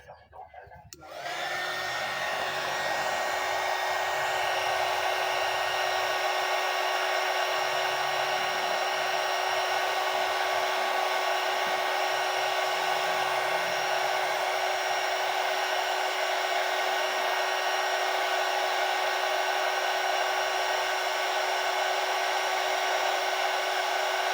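A loud, steady whooshing roar of a hot-air blower stripping thick old paint from a Yamaha Mio crankcase cover starts up after a brief quiet moment and runs without pause.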